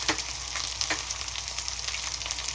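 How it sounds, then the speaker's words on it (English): Dry chili being stir fried in a hot pan for a butter chicken recipe, with a steady, fairly quiet sizzle and a few soft scraping stirs, no talking. "After 20 seconds, I'm adding 3 dry chili. Just stir fry like that."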